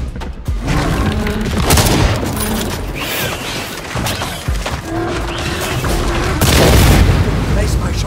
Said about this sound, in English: Setting explosive charge.